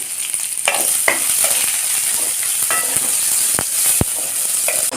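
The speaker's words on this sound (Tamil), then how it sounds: "ஒரு கைப்பிடி வெங்காயம் நம்ம தூளாக கட் பண்ணி வச்சுருக்கோம் அதையும் சேர்த்துடலாம் சின்ன வெங்காயம் தான் சேர்க்குறோம்" Finely chopped small shallots fry in hot oil in a pan with a close, steady sizzle. A few sharp scrapes and taps of a stirring spoon stand out above it.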